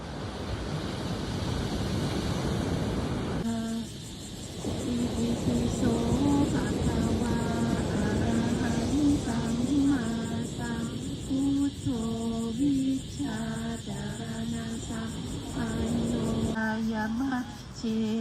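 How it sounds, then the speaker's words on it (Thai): Ocean waves wash in a steady, soft broadband hiss throughout, joined after the first few seconds by a sustained, tonal chanting voice that stays over the surf to the end. "เสียงคลื่นละเอียดชัดเจนขึ้นมาเลยนะคะ"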